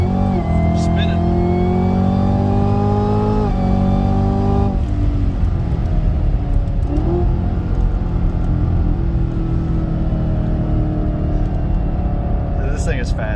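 A 2018 Chevrolet Camaro ZL1 accelerates hard at full throttle from inside the cabin, its engine note climbing through gear changes with loud, continuous roar and rumble while occupants talk over it.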